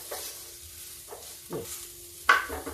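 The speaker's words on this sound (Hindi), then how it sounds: "2 बार और उलट पलट के इसको पका लेना है" Okra being stirred in a pan for a dry Lucknow-style bhindi sabzi, with quiet sizzling under several spatula scrapes and one sharper knock near the end, close and fairly faint.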